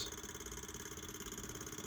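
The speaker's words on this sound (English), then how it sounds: "Power going on. Okay, it's a little cage issue, the rubbing" An old fan motor runs with its cage rubbing, a continuous faint hum carrying a quick, regular pulsing scrape throughout.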